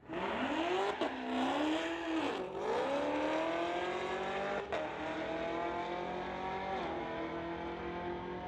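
A 2020 Chevrolet Camaro ZL1 drag racing a Tesla at a street-legal strip: a loud engine note climbs and dips through revs with a brief tire chirp, then holds a strong rising drone, with no talk.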